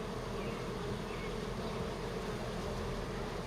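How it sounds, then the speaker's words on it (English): Bees swarm and buzz in a crowded hive, a dense, steady drone close by that holds unbroken throughout with no talk over it. "Good bit of bees."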